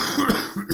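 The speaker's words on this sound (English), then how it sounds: "How long have you had that cough?" A couple of short, raspy coughs close by, separated by a brief pause.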